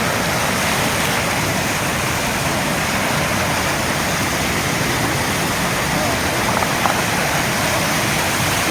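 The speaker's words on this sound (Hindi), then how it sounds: "देखो काफ़ी पानी हो गया तब" Swollen river in Kullu, Himachal Pradesh, rushing in flood, a loud, unbroken roar of churning water close by, broadband and steady from start to finish, with a faint voice briefly heard beneath it.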